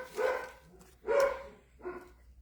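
A dog barks three times at moderate distance, two strong woofs about a second apart followed by a softer third, with no voices over them.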